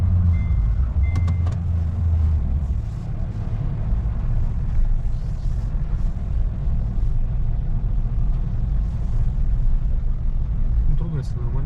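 Honda Fit GP5 Hybrid with a manual gearbox pulling away on a test drive, a steady low engine and road rumble running throughout, with people talking inside the car.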